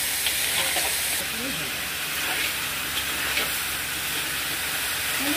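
Vegetables for Bengali sukto hiss and sizzle steadily in a hot pan, a continuous broadband frying noise with faint clatter of stirring underneath.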